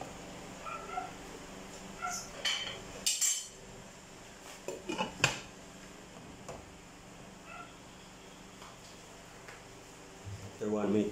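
A metal lid set over a cooking pot in a home kitchen, with a few sharp clanks and rattles of metal against metal amid scattered clinks of utensils, fairly close, and a brief voice near the end.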